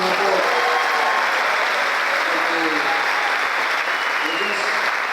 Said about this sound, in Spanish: yo creo que se merecen un aplauso mucho más fuerte